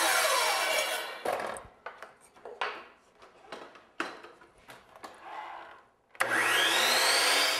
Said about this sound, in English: First, I cut the outside corner miter.